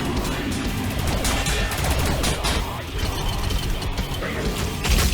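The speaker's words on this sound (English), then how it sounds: "he's shooting the skull cannon" Skull cannon fire in Warhammer 40k Battlesector, a dense burst of heavy gunfire and mechanical clatter filling the whole clip, loud and continuous with sharp shots over a rumbling low end.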